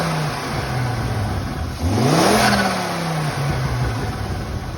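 A Ford Focus XR5 (ST MK2) turbo engine drones steadily up close, then is revved once: the pitch climbs sharply, peaks briefly and eases back down to a steady idle.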